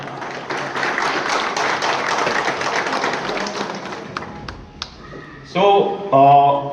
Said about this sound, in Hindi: 2000 ताली धमाकेदार हो जाए।